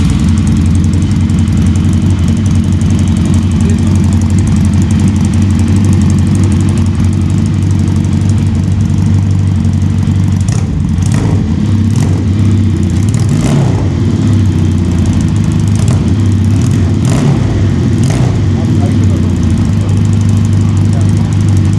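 A Suzuki GS150 cafe racer fitted with a swapped 350cc engine idles loudly and steadily close by, with a few short throttle blips partway through; voices talk over the running engine.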